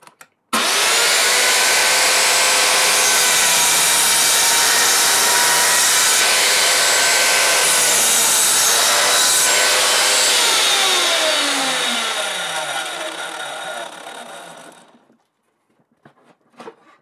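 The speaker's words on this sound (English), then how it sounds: "Cutting them to length with the mitre saw was fairly straightforward" A mitre saw cuts wooden shelf boards to length. It makes one long, loud, steady whine and rasp through the wood for about fifteen seconds, then winds down and goes quiet, with a few faint clicks after.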